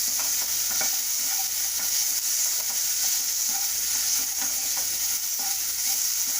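Lotus stem (kamal kakdi) fries in a pan with a steady, close, bright sizzle of hot oil, stirred now and then with soft scraping, continuous throughout.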